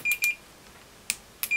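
Beeps from a Fluke 117 digital multimeter in diode test mode: two short high-pitched beeps, a pause, then two more, clear and close with no voices.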